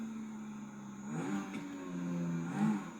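Car engine from Grand Theft Auto V, a steady idle hum that swells into a mid-pitched rev and then eases off, fairly close and without talk.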